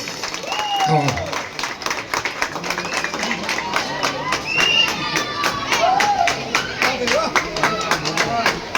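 Crowd applause for singers at a Navratri honouring ceremony in Vikhroli, a dense run of clapping that swells and holds over several seconds while someone talks loudly over it through a sound system.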